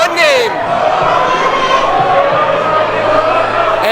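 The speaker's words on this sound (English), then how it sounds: "And the crowd, they appreciate the flying kicks from Del Bruno." A wrestling crowd at an indie show in Brooklyn roars and cheers loudly in a hall while a commentator talks over the noise.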